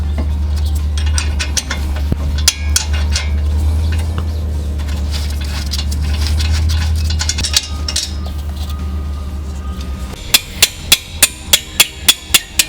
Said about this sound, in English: That is the original manual impact hammer.